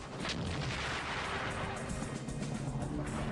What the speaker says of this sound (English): German 88mm guns take out Soviet tanks at long range